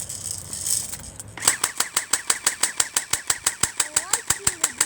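An airsoft gun emptying its magazine in one continuous burst, a fast, even string of sharp close-up pops at roughly four shots per second, following a short stretch of quiet background noise.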